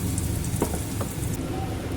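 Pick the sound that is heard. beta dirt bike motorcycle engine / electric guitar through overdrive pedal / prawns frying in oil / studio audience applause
prawns frying in oil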